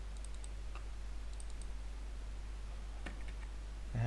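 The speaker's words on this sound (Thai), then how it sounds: "ผมคลิกนอกหนึ่งครั้งก่อน" A computer mouse clicks while someone works in Revit 2020 architectural software, a few light, sparse clicks in small clusters over a steady low electrical hum.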